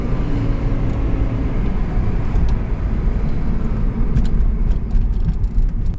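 Toyota Prius hybrid petrol engine held at a steady idle with light throttle, a continuous low rumble with traffic-like road noise and a few faint clicks, close and fairly loud throughout, no talking.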